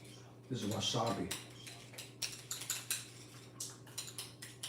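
A utensil clicks and taps against a plate while wasabi is being mixed, making a run of light, irregular ticks. Speech is heard just before the tapping starts.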